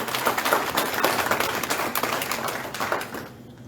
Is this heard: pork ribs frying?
no